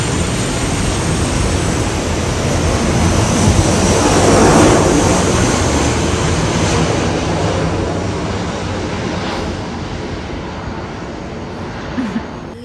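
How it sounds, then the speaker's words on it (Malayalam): Airplane cabin during a flight, a loud continuous broadband engine roar and rush that swells slightly in the middle and fades a little toward the end, with no talking. "ഞാൻ പോകുന്നൊരു ഫ്ലൈറ്റ്."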